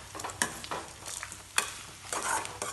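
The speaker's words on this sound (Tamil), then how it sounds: "தேங்காயும் புளியும் போட்டு ரொம்ப நேரம் வதக்க தேவையில்லை." Grated coconut and tamarind sauté in a pan for pirandai thuvaiyal, with repeated scraping stirs of a spatula over a soft, close sizzle and no talking.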